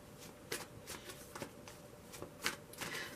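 Tarot cards being shuffled by hand, a soft papery riffling that comes in several quick bursts, fairly close and quiet, with no talking.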